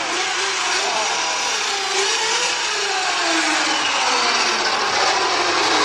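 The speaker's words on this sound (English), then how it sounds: "Every great haunted house, of course, has to end with the chainsaw" A chainsaw runs in a haunted house attraction with a loud, continuous engine buzz whose pitch rises and falls as it revs.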